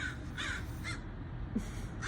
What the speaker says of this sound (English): And there those crows.